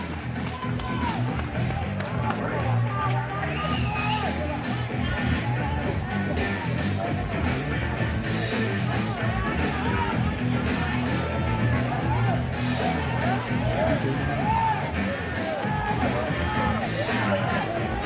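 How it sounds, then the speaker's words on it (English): A boxing crowd at a national tournament bout stands and cheers after the final round, a dense, steady roar of applause and shouting that stays loud throughout. "And even the crowd just on their feet."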